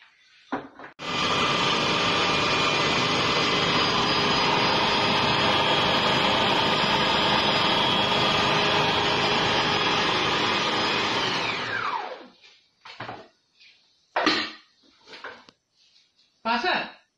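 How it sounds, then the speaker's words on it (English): Sour cream being whizzed into cultured butter in a blender: a loud, steady motor roar close by runs unbroken for about eleven seconds, then winds down and stops, after which a person talks. "I'm going to keep on whizzing it to turn this into a cultured butter"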